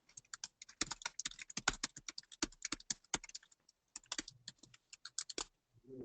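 Fingers tap out a message on a computer keyboard in quick, clattering bursts of keystrokes with a short pause midway, close and quiet, with no voices.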